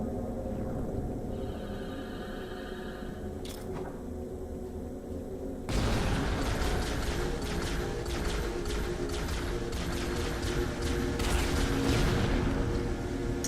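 Gunfire and a grenade blast in a Halo battle: quieter game ambience, then a sudden loud jump into sustained rapid firing and crashing impacts that carry on to the end.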